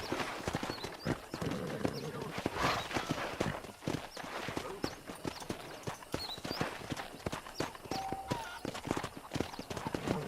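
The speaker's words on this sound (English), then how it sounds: "let's see if you can still ride a horse" Horse hooves clip-clop in a steady walking rhythm while riding in the video game Red Dead Redemption, close and clear, with occasional faint background sounds and a brief whinny.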